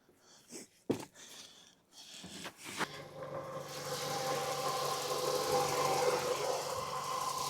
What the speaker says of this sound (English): Got the car started